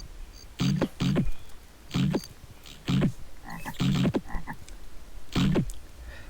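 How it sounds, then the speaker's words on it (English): A toad in the Zoombinis video game croaks repeatedly, loud and close, in short separated bursts, sometimes doubled, spaced a second or so apart over a soft background hiss. "this toad here."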